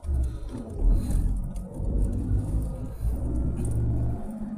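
A convoy of around twenty cars rolls past in a steady low rumble of tyres and engines, the sound swelling and holding as the vehicles stream by one after another, with no talk.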